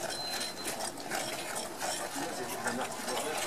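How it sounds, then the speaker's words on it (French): A fork stirring flour mixed with boiling water in a bowl for churros dough, a quiet steady scraping and clicking texture, close up and continuous. "on la met directement sur la farine et on mélange avec la fourchette"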